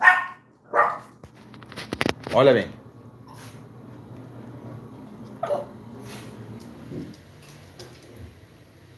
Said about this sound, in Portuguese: o cachorro vai começar a latir agora